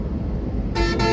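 Car horn honking in busy city traffic in Uttara, a short loud toot breaking in over the steady rumble of road noise, with no talking.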